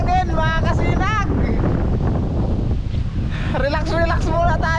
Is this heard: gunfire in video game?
no